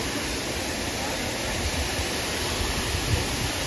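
A waterfall in Jim Corbett Park, Ramnagar, roars as a dense, steady wash of falling water, loud and close, with no voices over it.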